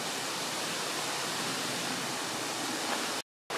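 Rushing stream water at Golitha Falls, a steady, dense, broadband roar that holds constant with no voices, then cuts out abruptly just before the end.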